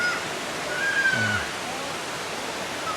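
Hulugan Falls, a tall waterfall in Laguna, produces a soft, even broadband hiss of falling water heard from a distance, with a brief faint chirp near the start.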